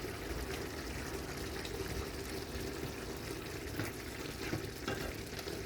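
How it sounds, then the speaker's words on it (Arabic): A pot of ribs with tomato paste simmers on the stove as its water cooks off, giving a steady, close sizzling and bubbling hiss throughout. "ويبقى بعد هو على النار لحد ما ينشف المي مالته ويستوي إن شاء الله."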